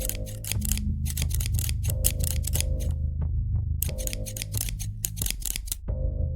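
Scissors snipping in a quiet room: a steady run of sharp, close metallic cuts in quick rhythmic bursts, with brief pauses between groups, over a low hum.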